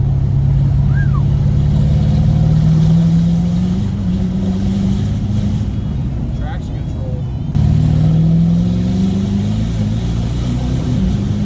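A Ford 6.7 Powerstroke diesel pickup with a big turbo and straight pipe revs hard, a loud, close drone that climbs in pitch, dips, then climbs again after a brief break, with a voice talking over it.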